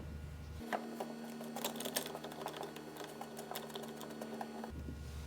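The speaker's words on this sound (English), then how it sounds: "And then you're gonna kind of bring all the clamps in to tension at the same time." Metal clamps are fitted and tightened one after another during a serving tray glue-up in a woodshop: a close, busy series of small clicks, taps and ratcheting knocks over a low steady hum, with no speech.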